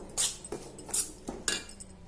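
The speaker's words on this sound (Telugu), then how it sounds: "చింతపండు చట్నీ అయితే కలిపేస్తున్నా చూడండి" A spoon scrapes and clinks against a bowl while tamarind chutney with raw onion is mixed, four distinct clinks spaced about half a second apart, close and fairly quiet with no talking.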